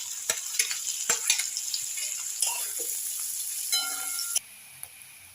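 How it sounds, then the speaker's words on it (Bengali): Steamed cauliflower hits hot mustard oil in a wok, already tempered with spices, and sizzles loudly and steadily, broken by sharp clatters of stirring, until the frying suddenly quiets near the end. "এবার ভাপিয়ে নেওয়া ফুলকপিটা আমি দিয়ে ভেজে নেব"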